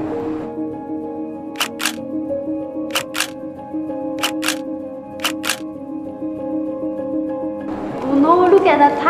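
Camera shutter fires for a selfie during a tour of a hospitality school campus, four crisp double clicks spaced about a second apart over a steady musical background, followed by a brief voice near the end.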